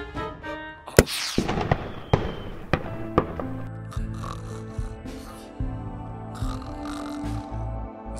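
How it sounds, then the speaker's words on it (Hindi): A sharp pop and whooshing burst of a signal flare being fired, followed by several crackling bangs and scattered hits over a low rumbling background, in a cartoon. "ये तो फ्लेयर की आवाज है।"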